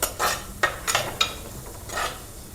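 Onions frying in a pan for a Kundapura-style fish curry, with soft sizzling under a few quick scraping stirs of a utensil against the pan, close and fairly quiet, no talk.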